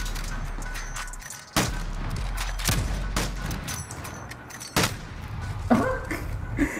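Gunfire in the video game Modern Warfare during a one-on-one match: several sharp, loud shots spaced irregularly, each with a booming tail, over a low background rumble.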